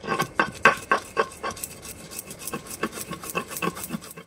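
Poppy seeds and cashews are ground on a flat stone grinder with a hand stone, giving rhythmic gritty scraping strokes about three per second, close and distinct, fading slightly then resuming, with no speech.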